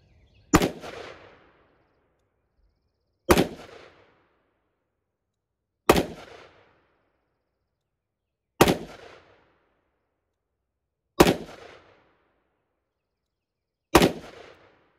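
A Colt Python revolver with a 4.25-inch barrel fires .357 Magnum rounds. Six sharp, loud shots ring out alone, evenly spaced about two and a half seconds apart, each with a brief echoing tail.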